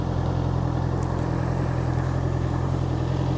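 Honda CBR650R fitted with an e-Clutch holding full throttle in sixth gear, a steady, loud, unbroken engine drone with constant wind rush and no shifts or pauses throughout.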